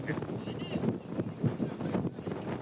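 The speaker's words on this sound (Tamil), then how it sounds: "காற்று ஓரம் அடிக்குது." Sea wind at Dona Paula, Goa, buffeting the microphone in a steady rough rumble with gusty swells, no voices.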